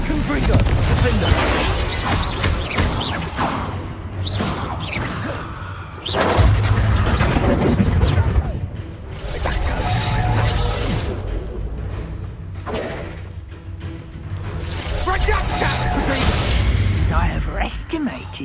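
Spells cast in Hogwarts Legacy, including Expelliarmus and Confringo: repeated booming, shattering magic blasts with thuds come in bursts through a dense, loud combat mix, and voices talk over them.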